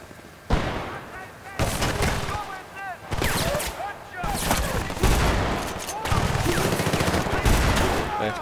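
A Boomstick shotgun fires in Battlefield Bad Company 2: loud repeated blasts, some overlapping in dense volleys and others spaced about a second apart, with the game's clatter between shots.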